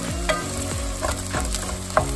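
Vegetables for an Italian ragù fry in a pan, a steady loud sizzle broken by several scraping stirs at irregular intervals, with no talking.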